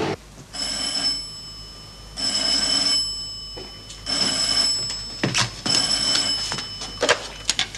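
An old-style telephone in a Czechoslovak crime drama rings in four long, shrill electric bursts separated by short pauses, clear and close, before fumbling handset noises.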